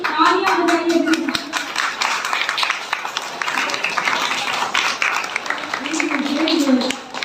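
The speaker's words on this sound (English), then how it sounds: "contestants का प्रोत्साहन कीजिए, तालियां बजाइए प्लीज" Audience applause and hand clapping for contestants at a live event, steady and fairly loud throughout, with voices and children's chatter mixed in.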